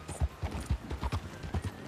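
Horse hooves clip-clop in a video game, a steady rhythmic beat of close, distinct hoof falls at a riding pace, with no talk over them.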